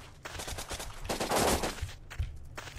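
Rapid bursts of automatic rifle fire from the blocky shooter game Blockpost, continuous strings of shots in close succession, moderately loud, with no voices over them.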